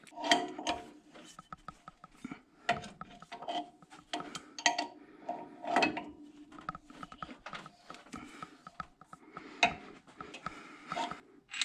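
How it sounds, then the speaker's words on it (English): Metallic clunks, scrapes and knocks as a crankshaft dampener is turned and pushed onto the crankshaft of a 1973 Z28 engine, coming in irregular close bursts with short quiet gaps. "we'll just turn this and push it onto the crankshaft"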